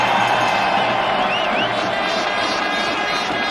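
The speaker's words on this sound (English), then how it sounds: "But it's enough to get the crowd roaring." Roaring crowd at a Pakistan versus India cricket match fills the stadium, a loud dense wash of cheering that holds steady throughout.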